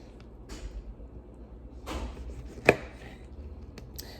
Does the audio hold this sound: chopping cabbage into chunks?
yes